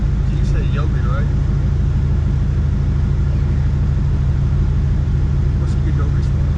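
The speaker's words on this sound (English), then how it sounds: "This car is loud as fuck." Loud, constant engine rumble fills the cabin of a 600+ horsepower Cadillac CTS-V on the move, a heavy, unbroken drone near and dominant from start to finish.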